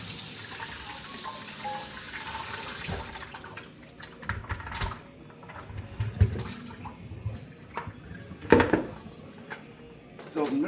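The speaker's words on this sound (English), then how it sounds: "we're gonna take a minute and just rinse these off" Running water from a tap splashes over drained potatoes as they are rinsed, a rushing stream at first that gives way to scattered drips and clunks of pots, with a person talking throughout.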